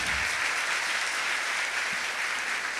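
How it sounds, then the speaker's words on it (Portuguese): A church congregation applauds during a Sunday service, a steady, dense wash of clapping from many hands that holds constant throughout. "Aplauda."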